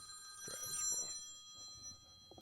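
A telephone rings for an incoming live call, a bright, steady electronic ring heard close and clear for a couple of seconds, with a faint sound of movement underneath.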